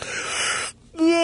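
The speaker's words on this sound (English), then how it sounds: "frankly, I'm just going to yawn." A single breathy, drawn-out yawn with an airy wheeze, close and fairly loud, breaking off briefly before ending in a short voiced moan.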